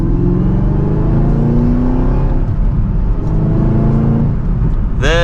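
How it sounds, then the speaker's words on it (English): A 2023 Chevrolet Camaro ZL1 pulls hard from second gear on the road, its engine note a loud, steady, rising roar heard from inside the car, with no talking. "let's go ahead and get this out on the road. And from second gear, here we go."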